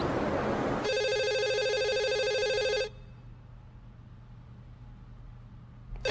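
A telephone rings with a loud electronic tone for about two seconds and then stops, leaving a quiet room hum behind it.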